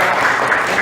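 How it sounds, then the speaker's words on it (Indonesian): Students applauding in a classroom after a group presentation, a short steady burst of dense clapping at close range with no voices over it. "ya tepuk tangan"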